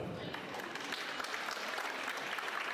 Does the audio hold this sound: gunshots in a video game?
no